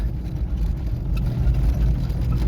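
A car drives across sand in the Kuwait desert, its engine a steady low rumble with rough broadband road and wind noise, close and continuous, with no voices.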